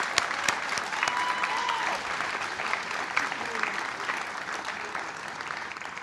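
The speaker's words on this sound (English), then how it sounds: "Let's give them a round of applause." Crowd applause at an outdoor city Pride illumination event in Columbus, honoring a men's chorus and drummers; sustained clapping with scattered sharp claps and faint cheering.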